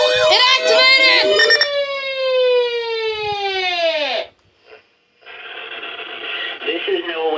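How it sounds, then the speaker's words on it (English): A NOAA Weather Radio EAS emergency alert test for the Florida listening area: a loud, sustained tone slowly slides downward and then stops, followed after a brief gap by a softer buzzing signal. "The preceding signal was a test of the public warning and alarm for transmitters in the Florida listening area"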